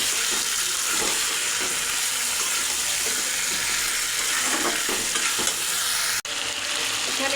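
Chopped onions and chicken sizzle loudly in hot oil with garam masala for chicken biryani, a steady crackling fry broken by stirring scrapes, then a brief cut near the end.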